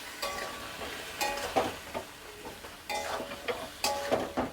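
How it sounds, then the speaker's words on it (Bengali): Spice masala sizzles in a pan for shukto while it is stirred, with repeated scraping strokes in bursts over a constant low frying hiss, close and moderately loud. "একটু নেড়ে নিতে হবে ভালো করে সামান্য জল দিয়ে।"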